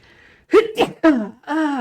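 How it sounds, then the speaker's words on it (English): A single sharp sneeze with a sudden burst of breath, preceded by a brief inhale and followed by a short voiced sound. "Oh, I gotta sneeze."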